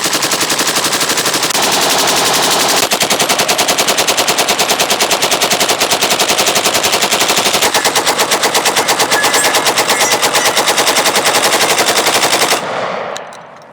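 A rifle with an H-bar barrel fires in long rapid bursts, loud and close, a dense rattling string of shots for over twelve seconds that ends abruptly into quiet, with no talking.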